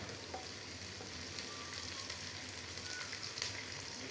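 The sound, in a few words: frying fish roe while stirring in spices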